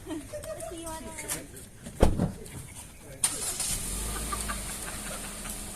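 A car engine cranks and catches, then settles into a low steady rumble, with a sharp burst just before it; people talk throughout.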